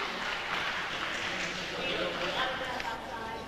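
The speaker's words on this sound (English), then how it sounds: "Give yourself a round of applause." An audience at a lecture hall talk claps together in a sustained, even round of applause, heard at moderate level with some voices mixed into the clatter.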